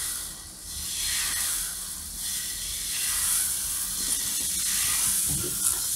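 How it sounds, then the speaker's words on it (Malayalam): Dosa batter spread thin on a hot dosa pan gives a steady, close hiss and sizzle that runs the whole time with no talking. "നമ്മളൊരു ദോശ കല്ലെടുത്തിട്ട് അതിലേക്ക് ഈ മാവ് ഇതാക്കിയിട്ട് ദോശ പരത്തുന്ന പോലെ ഒന്ന് പരത്തി വെക്കുക."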